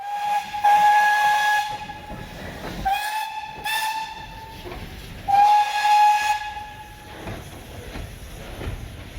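Steam locomotive 73156 hissing with repeated harmonic whistle blasts at a heritage railway station, loud and close, swelling and fading across several bursts.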